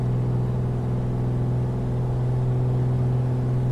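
A Commander 114 piston aircraft engine in a flight simulator holds a steady, loud, droning run-up at full power with brakes set, an even continuous hum with no voices.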